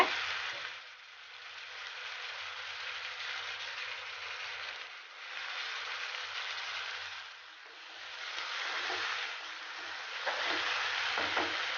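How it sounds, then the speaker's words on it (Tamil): Tomatoes sautéing in a pan for a dhaba-style chicken curry, a soft continuous sizzle that swells and dips in waves, fairly faint and close, with no talking. "நல்லா மிக்ஸ் பண்ணி விடுங்க. தக்காளி நல்லா வதங்கட்டும்."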